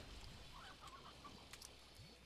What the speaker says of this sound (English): That chicken is gonna get eaten.